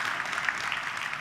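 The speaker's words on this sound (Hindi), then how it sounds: "ताली बजाओ यार इनके लिए सबसे।" A short burst of audience clapping at an event about Indian Railways, an even, continuous patter with no pauses.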